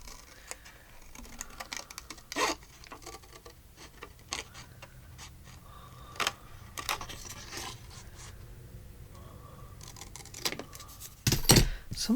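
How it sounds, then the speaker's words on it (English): Quiet snipping and crisp paper rustling come in scattered bursts, close by, with soft scraping between cuts. "We'll cut that one down with our scissors."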